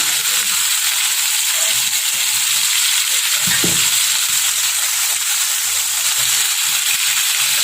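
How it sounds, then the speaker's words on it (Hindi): Chilli powder, coriander powder and other spices frying with tomato puree in a pan, a steady soft sizzle running throughout with a brief stirring scrape near the middle, no talking. "ये सारे मसाले को और टोमेटो प्यूरी को अच्छे से भून लेते हैं"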